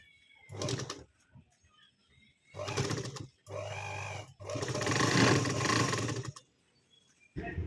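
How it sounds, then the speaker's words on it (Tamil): Sewing machine stitching two denim pieces together, running in several close, loud bursts of rapid whirring stitches separated by short pauses. "இதோட 2 பீஸையும் சேர்த்து தச்சுக்கிடுங்க"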